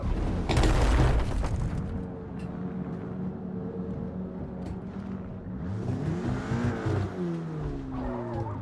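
Racing car engine in Forza Motorsport with an abnormal knocking, skipping running, loud and continuous with revving and gear changes, a burst of boom and tire noise near the start.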